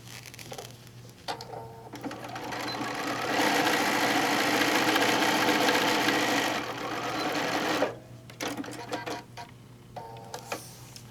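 Sewing machine stitching placemats backed with foam, bursts of rapid mechanical stitching that build into a long steady run before short stop-start stitches near the end.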